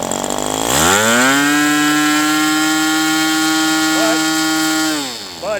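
A Magnum 65 GPSE model airplane engine with a three-blade propeller runs with a loud, close, high-pitched buzzing drone. It rises, holds steady for several seconds, then falls away as the revs drop.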